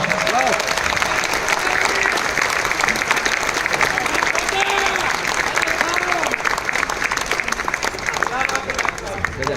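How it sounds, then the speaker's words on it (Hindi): An audience at a Kangen water talk applauds the speaker's team, dense continuous clapping from a large crowd, loud and sustained with some murmuring underneath. "आप लोग उन लोगों के लिए तालियां बजा सकते हैं"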